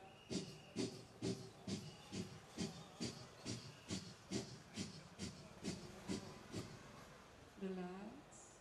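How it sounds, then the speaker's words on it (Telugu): A group at an outdoor yoga program with sanitation workers does a breathing exercise, with about sixteen forceful, hissing breaths in a steady rhythm roughly every half second, close and clear, and a voice briefly sounding at the end. "మరొకసారి అందరూ శ్వాస తీసుకోండి 10 సార్లు."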